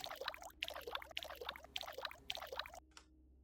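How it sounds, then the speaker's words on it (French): A watering can sprinkles water onto plants in a video game, a soft, continuous pouring patter in rhythmic bursts over a low hum, stopping abruptly near the end. "Je ferais mieux d'arroser les plantes jusqu'à ce que les nouveaux clients arrivent."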